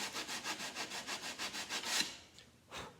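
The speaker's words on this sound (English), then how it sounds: "Got a little square sanding block, but then I put another piece of like 80 grit on here" Rhythmic back-and-forth strokes of an 80 grit sanding block rubbing over wooden canoe strips, about a dozen steady near passes, then a pause and one last short stroke.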